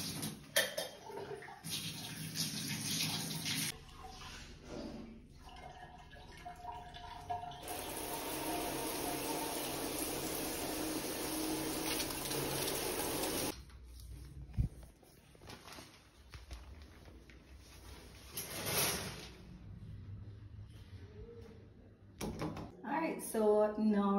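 Steady running water from a tap or shower in a house in Inswood, St. Catherine, Jamaica, flows continuously for several seconds mid-clip, with softer clatter and handling noises around it.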